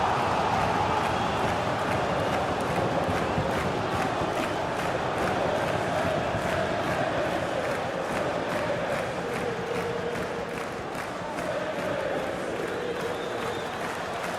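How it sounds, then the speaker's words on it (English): A virtual stadium crowd roars steadily through a simulated Premier League match, Crystal Palace against Manchester United, a broad continuous wash of cheering and applause with a commentator's voice occasionally over it. "The crowd certainly think so. Just listen to them."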